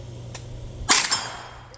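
A single sharp gunshot from a Hi-Point 9mm carbine cracks out close and loud near the middle, with a short bright decay and a low background hum before it.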